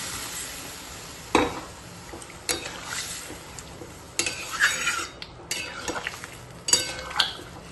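A utensil stirs fried potatoes and pointed gourd in a cooking pan, with irregular scraping clinks and clatters against the metal over a soft background sizzle, close and fairly loud.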